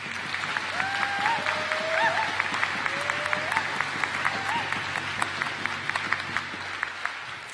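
Steady applause from guests honoring graduating students at a health and wellness convocation ceremony, moderately distant and continuous, with a few higher tonal calls or whistles rising above the clapping early on.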